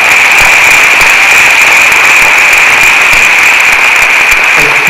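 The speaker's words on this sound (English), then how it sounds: "let's give a round of applause to the home of the Jaguars" A crowd gives a loud, sustained round of applause at an outdoor school ribbon cutting and dedication ceremony for Jefferson-Houston Elementary, a dense, steady wash of clapping and cheering lasting the whole stretch.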